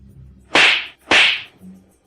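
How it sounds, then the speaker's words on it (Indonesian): Two sharp slaps across the face, half a second apart, loud and close, each a crisp smack with no voices around them. "Ayo, tampar dia 2 kali lagi."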